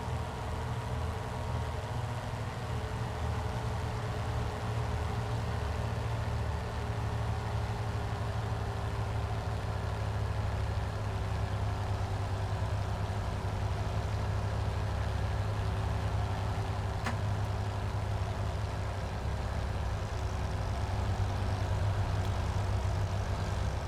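A Hawker Hurricane's Merlin engine in a flight simulator, throttled back to a steady low drone and hum that stays even and unbroken throughout.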